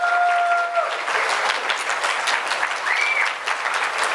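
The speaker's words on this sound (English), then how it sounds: "Let's hear a round of applause to all the tech people that made this happen" A meeting crowd gives steady, continuous applause to the tech crew, a medium-loud wash of clapping with a few brief tones over it.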